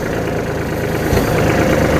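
A Kubota B2140S narrow tractor with a three-cylinder engine and four-wheel drive idles steadily nearby, a low even chugging with a slight knock that holds through the whole stretch, no voices over it.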